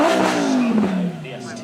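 Supercar engine, a Lamborghini Huracán STO, howls near the top of its rev range at a supercar show, a loud high wail that slides downward as it passes before fading quickly.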